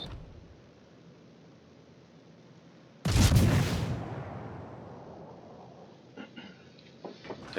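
A naval gun fires in a warship video game, a single loud, booming blast that rolls off into a long fading rumble, followed by faint distant clicks and pops.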